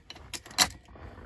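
A ring of keys jangles before going into the ignition of a Ford Excursion with a 6.0 engine swap: a few quick metallic clinks close by, with one louder rattle midway, then quiet.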